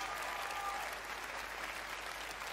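Steady applause from a large audience at the Bethesda E3 2018 showcase, a continuous patter of many hands clapping at a moderate, somewhat distant level.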